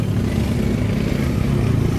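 A noisy, misfiring Isuzu 4JA1 diesel engine in a Highlander Crosswind runs close up, with a steady low rumble and an uneven, stumbling pulse throughout and no voices.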